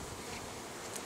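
Honeybees from a newly installed package hum steadily at close range, a continuous soft buzz lasting about a second with no voices.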